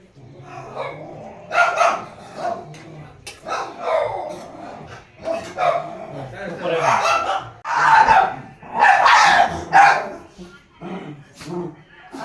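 A mother dog and her puppies bark, yip and whimper in repeated agitated bursts at close range at home, with people talking over and between the barks.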